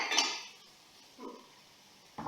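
Food being stirred in a cooking pot with a utensil, giving a few soft, spaced scrapes and clinks against the pot, quiet and close, with no talking.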